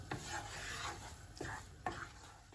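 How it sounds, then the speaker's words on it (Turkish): Flour being roasted for helva is stirred in a pan, a soft, quiet scraping with three or four distinct sweeps over a faint background sizzle. "3-5 dakika daha kavuracağım"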